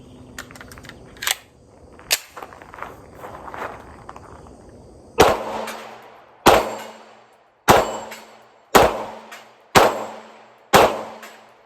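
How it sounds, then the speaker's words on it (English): Pistol shots fired at steel plates 15 yards away, heard first as a few scattered reports and then as six sharp, loud shots in a steady rhythm, each with a quick ringing decay. "I'm just going to shoot steel plates, 15 yards, see how we do"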